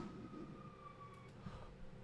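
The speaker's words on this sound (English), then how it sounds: "now that the ambulance is not making noises anymore" An ambulance siren wails steadily at a distance, faint and continuous under a low background rumble.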